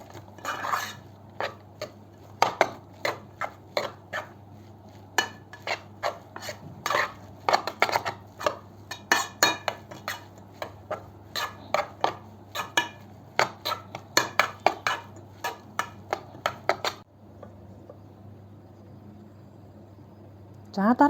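A spoon stirs rice mixed with a spoonful of spicy seasoning in a bowl, making a long series of light, irregular clinks and scrapes against the bowl that pause briefly near the end.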